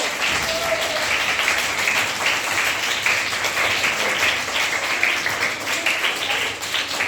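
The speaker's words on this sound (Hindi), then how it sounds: "एक बार जोरदार ताली बजा दीजिए।" A room full of children claps loudly and steadily in a classroom, a dense, continuous patter of many hands held at an even level throughout.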